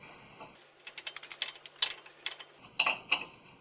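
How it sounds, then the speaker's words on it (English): A nut near the ABS wire on the front differential of a 2005 Dodge Dakota being loosened with a ratchet, a run of quick metallic clicks in bursts after a brief pause, fairly close and without speech. "I'll see if I can get this nut all the way off first"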